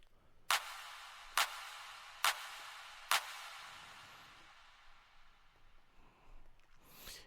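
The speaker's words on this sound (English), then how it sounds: "Next is a clap" A clap sample loop from a sample pack: four sharp, bright claps spaced evenly about a second apart, each with a short reverb tail, followed by a fading wash of ambience, played alone.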